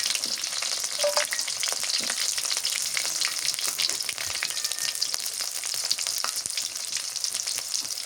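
Garlic and green chilies frying in hot oil give a steady, dense sizzle that holds close and loud throughout, with faint crackles and occasional stirring scrapes and no voices.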